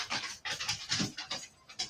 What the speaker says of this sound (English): That dog loves me more than anybody else in this room.